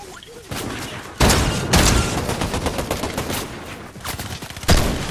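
Rapid bursts of video-game gunfire crackle close and loud in repeated volleys, with heavy shots punching through at intervals across the whole stretch.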